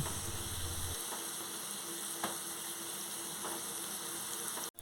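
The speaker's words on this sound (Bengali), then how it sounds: "আলুর সঙ্গে একটু মশলা নেড়ে চেড়ে নেবার পর পটলগুলো এতে দিয়ে ভালোভাবে মিশিয়ে নেব।" Potatoes and spices frying in oil with pointed gourd, a continuous dense sizzle close by, with a few faint stirring taps and no voices.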